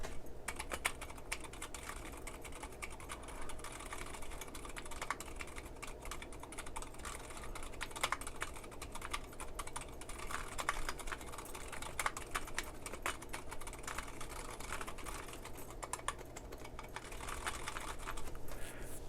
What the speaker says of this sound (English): Now it feels like I'm typing on the tray as opposed to on a plate.